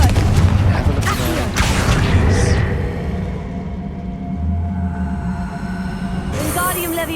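Confringo blasting spell in Hogwarts Legacy video game, a few heavy booming blasts early on followed by a lower rumbling tail, then a sharp burst at the end, loud.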